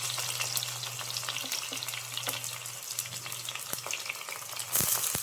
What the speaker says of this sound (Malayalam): അതിലേക്ക് ഒരു ചെറിയ സവോള ചെറുതാക്കി അരിഞ്ഞത് ഇട്ടുകൊടുക്കും.